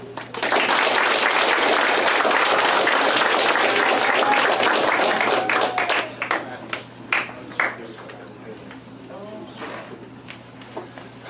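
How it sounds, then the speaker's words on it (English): Audience applause greets a performer coming up to the stage at a community event in Prescott, a dense, steady clapping for about six seconds that thins out into scattered claps. "Please give her a round of applause as she comes up"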